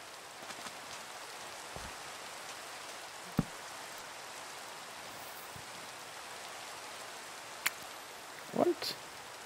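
Steady rain falling in Minecraft at dusk, a soft continuous hiss at low level with a few faint clicks and a quiet voice speaking over it.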